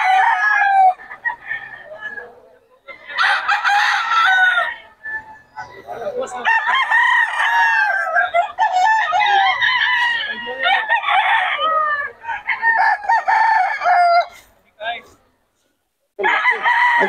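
Sweater-bloodline gamefowl roosters at a market crow loudly and close by, several long crows overlapping with clucking, repeated across the whole stretch with only brief gaps.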